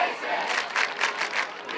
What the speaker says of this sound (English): I don't know if you could hear the crowd just chanting, "We love Mason."